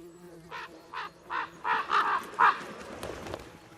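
A series of about seven loud, rhythmic caws from crows scavenging at wolf carcasses in the wild, fairly close, gradually rising and then fading to a couple of fainter calls.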